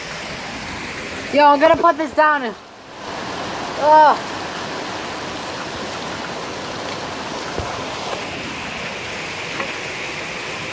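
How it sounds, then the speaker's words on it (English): Heavy rain pours steadily in a dense, continuous hiss outdoors, filling the whole stretch at an even level, with someone speaking briefly over it near the start. "This is the biggest rain of the year."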